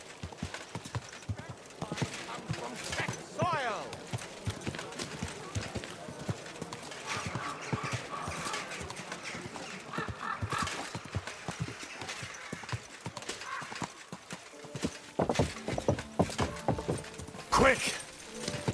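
Horse hooves clip-clop steadily in the medieval role-playing game Kingdom Come: Deliverance II, a brisk rhythmic trot under game music and other noises, with a voice speaking at times and a horse whinnying briefly.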